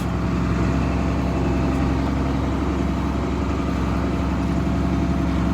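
Tractor engine running steadily in a field, a continuous low droning rumble with no breaks, close and fairly loud throughout.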